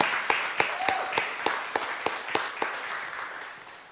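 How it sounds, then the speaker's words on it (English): Conference audience at a California Community Colleges ethnic studies faculty council meeting applauding for Francesca, a modest scattering of distinct claps that gradually fades out. "let's give her another round of applause as she goes up"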